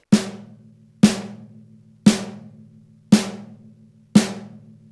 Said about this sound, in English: The snare drum sounds like this.